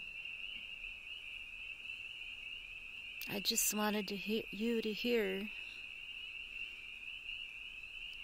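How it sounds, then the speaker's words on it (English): Spring peeper frogs sing across a road at night in a dense, steady high-pitched chorus at a distance, continuing unbroken while a person speaks softly for a few seconds midway. "the beautiful sound of the spring peeper frogs singing across our road now"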